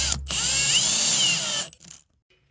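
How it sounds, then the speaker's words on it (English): An electric drill drilling into a wall cavity behind an insulation bracket whines steadily at close range for about a second and a half, then cuts off with a brief sputter before silence. "I'm going to drill down behind the insulation bracket into the wall."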